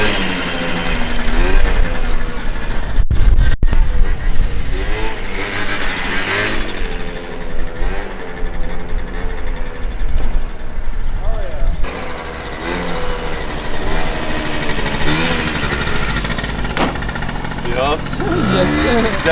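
A water-cooled 120cc stroker Honda Elite AF16 scooter with a Dio engine and lighter rollers revs and accelerates hard, a loud buzzing two-stroke engine note rising and falling repeatedly, with people talking over it.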